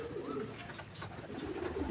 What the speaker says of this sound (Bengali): দেখুন পায়রাটা